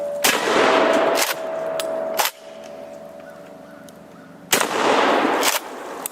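A shotgun slug fired at an old, long-empty propane tank outdoors: two loud, sharp blasts a few seconds apart, each with a brief ringing tail, and no talking.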